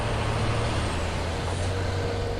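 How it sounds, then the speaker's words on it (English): A truck idles with a steady low diesel rumble under a broad, hissing wash of noise, with a long air-brake release running through the whole stretch. No voices are heard. "Later that day, headquarters sent out more trucks."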